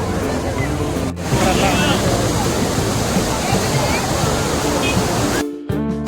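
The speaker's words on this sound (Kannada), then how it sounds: "ನೋಡಿ ಹೇಗಿದೆ ಬಲಮುರಿ ಫಾಲ್ಸ್." Balamuri Falls near the KRS backwater in Mysore pours with a broad, steady rush of water, close and continuous, while people talk over it and brief wind buffets hit the microphone.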